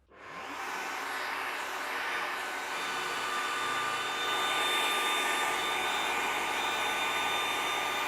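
A power tool cuts a flat-bottomed recess into a workpiece for a bolt head while a metal and wood bench is being restored, giving a steady, loud whirring whine that runs unbroken throughout with no talk.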